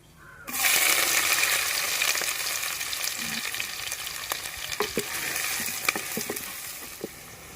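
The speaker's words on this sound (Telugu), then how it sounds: "ఇప్పుడు ఉల్లిపాయ పచ్చిమిరపకాయ ముక్కలు వేసుకుని దోరగా వేయించుకుందాం" Onion and green chilli pieces hit hot oil in a pan with curry leaves for an Andhra-style small fish curry, a sudden loud sizzle that settles into a continuous close frying hiss with occasional pops and stirring clicks.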